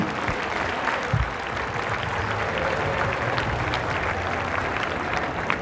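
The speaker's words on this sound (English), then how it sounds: "Let's hear a big round of applause for all of your 2025 Callahan finalists in the women's division" Steady, dense applause from an audience honoring the 2025 Callahan finalists in the women's division at a college championship event, a broad even wash of clapping that holds for the whole stretch.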